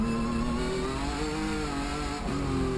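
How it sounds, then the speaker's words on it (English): Rhys Millen's race car on sticky Hankook tires brakes hard into a corner on Pikes Peak. Its engine drones loud and close with a steady tone that dips briefly before picking up again. "and again hard into braking"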